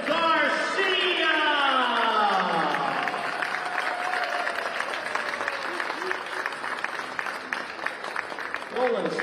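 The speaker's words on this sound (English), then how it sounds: "Gentlemen, a nice round of applause for our runner-up in the event also, Mr. Roland," Audience applause at a tennis tournament ceremony for the runner-up Roland Garcia, sustained clapping from a crowd rising right after an announcer's voice and continuing for several seconds.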